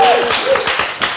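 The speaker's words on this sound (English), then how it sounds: "A big applause for Sandra." Studio audience applause at a TV talk show, a steady wash of many hands clapping at moderate volume, with a voice faintly carrying over it.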